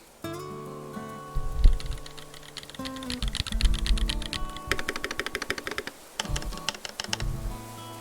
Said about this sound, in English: But this keyboard sounds really good.